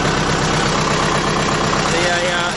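An Allis-Chalmers tractor fitted with a 2.5-inch exhaust stack idles loudly and steadily nearby, a dense continuous engine drone with a voice talking over it.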